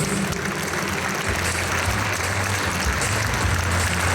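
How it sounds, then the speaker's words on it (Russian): Audience applause for a children's choir after a performance, a steady, dense clapping that fills the room from start to finish with no break. "Ваши аплодисменты"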